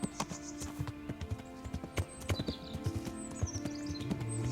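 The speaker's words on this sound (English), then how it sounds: "this horse is so fast" Horse hooves galloping in Kingdom Come: Deliverance, a fast rhythmic clip-clop of sharp, close hoof strikes that continues steadily across the whole stretch, with no talking.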